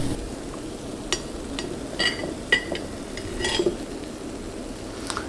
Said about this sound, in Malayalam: ഈ ബാക്കിയുള്ളതും ഇതേപോലെ തന്നെ വറുത്തിടുക.